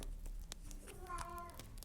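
A cat meows close by indoors, a single rising and falling call partway through, over a low steady room background while stickers are being unpacked.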